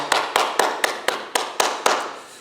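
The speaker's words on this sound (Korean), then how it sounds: "우리 남자 성도님들 여러분들께 감사와 또 격려의 박수 함께 하도록 하겠습니다" Sparse clapping from a small Korean church congregation applauding the men at a Sunday service, about eight distinct claps spaced in a loose, even rhythm, close and moderately loud with no talk.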